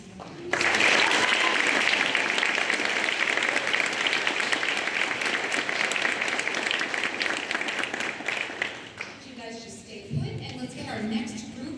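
Audience at a senior awards night applauding honor choir students, a full, sustained round of clapping that starts abruptly, holds steady, then thins out as a voice begins speaking.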